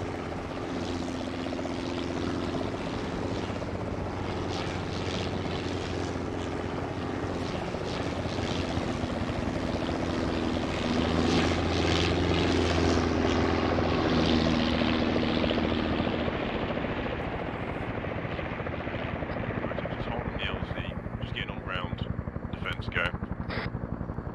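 Helicopter in the Arma 3 Vietnam setting, its rotor chop and turbine whine loud and steady throughout, with speech in the clip and the engine easing off near the end.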